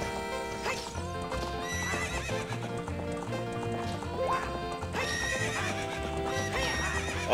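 A horse whinnies and hooves clip-clop at a gallop over steady game music in Ocarina of Time, with the neigh rising loud near the end.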